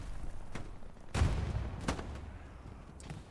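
Gunfire in the WWII shooter Hell Let Loose on the Omaha map during a tournament match: two sharp distant shots about 0.7 s apart, then a fainter third near the end, over quiet battlefield ambience.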